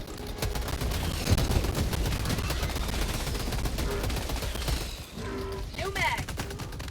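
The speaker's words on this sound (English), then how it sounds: "Oh yeah, I'm on my SMG now. I was like, why are the shots so different?" An SMG in Helldivers 2 fires in rapid, sustained bursts that stay loud and dense for several seconds. Other weapon reports and mechanical clatter join toward the end.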